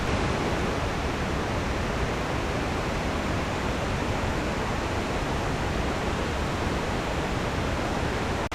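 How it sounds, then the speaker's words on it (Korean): A huge waterfall in Indonesia roars in a steady, dense wash of falling water, loud and close, with no letup from start to finish. "천개의 폭포라는 별명이 어울리는 그런 모습입니다."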